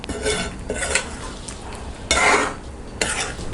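A spoon scrapes and stirs diced yam in a metal pan with a light sizzle underneath, in several rough bursts of stirring close by.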